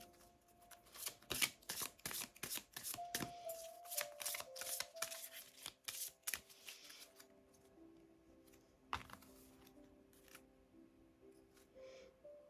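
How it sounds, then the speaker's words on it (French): Saint Michael oracle cards being shuffled by hand: a rapid series of crisp riffling flutters and slaps, close and clear, thinning to scattered card taps and faint soft noises toward the end. "On va tirer une petite carte de l'oracle de Saint-Michel de Reine Vertu."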